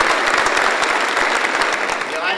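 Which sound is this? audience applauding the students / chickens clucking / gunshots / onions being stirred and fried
audience applauding the students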